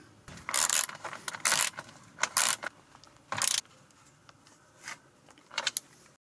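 Lidl Powerfix ratchet wrench fitted with a 14 mm socket, giving several short bursts of fast metallic ratcheting clicks separated by quieter handling noises, close up and with no talking.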